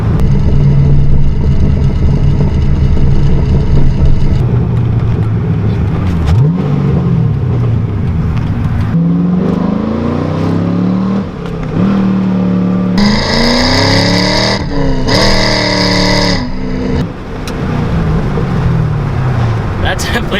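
A Pontiac GTO driven on the road, its engine growling through gear changes and revving hard in loud bursts, with crackles and pops as the throttle eases off, close inside the car.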